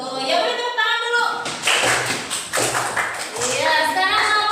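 Classroom applause during a lesson on how water enters through a gate: scattered claps and taps rise in a short burst amid a teacher's voice and children's speech before and after.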